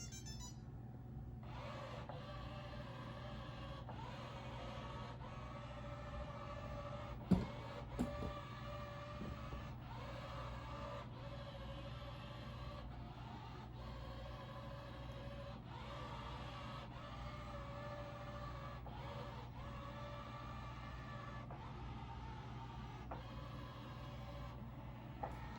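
Samsung JetBot VR20T6001MW robot mop with dual spinning microfiber pads running a crisscross pattern, a faint steady motor hum with rhythmic regular pulses and a few small bumps, quiet and alone.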